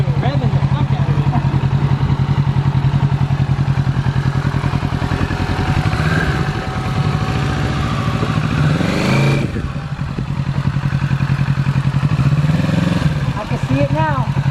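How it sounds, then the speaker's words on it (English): A 2020 Kawasaki Z650 motorcycle engine runs close by, a steady throbbing drone with rising and falling revs and some clatter, while people talk over it. "It looks like I'm fucking revving the fuck out of it."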